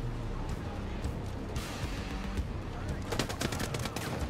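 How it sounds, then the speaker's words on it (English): Rapid enemy gunfire in a tactical shooter game, rounds coming up through the floor in quick bursts, with the heaviest volley near the end; loud and continuous with layered impact crackle. "he's shooting through the floor"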